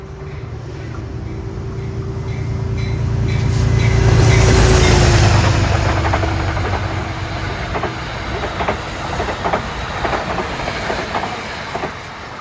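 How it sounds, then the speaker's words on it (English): A Metro-North passenger train, Grand Central to Poughkeepsie and led by Penn Central heritage locomotive 217, rolls past along the Hudson, a diesel rumble swelling to a loud peak as it nears, then fading into a rhythmic clickety-clack of wheels. "here comes Metro North 839, Grand Central to Poughkeepsie with the Penn Central Heritage Unit"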